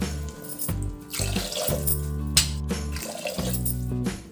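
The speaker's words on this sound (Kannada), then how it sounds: "ಈಗ ನಾನು ಮೂರು ಗ್ಲಾಸು ನೀರು ಹಾಕ್ತಾ ಇದ್ದೀನಿ" Glasses of water are poured into a cooking pot for rice usli, each pour a close, splashing gush with brief gaps between them.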